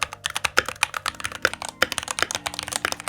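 Fast typing on a mechanical keyboard fitted with Durock L Series or Alpaca linear switches, producing a dense, continuous clatter of close, crisp keystrokes with no talk.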